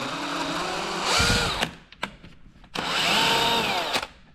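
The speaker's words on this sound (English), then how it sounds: "So tip for using a tap on a drill is let it do the work." A power drill driving a thread tap whirs in two slow, separate runs, its motor pitch sagging under load, with a short pause and a few clicks between.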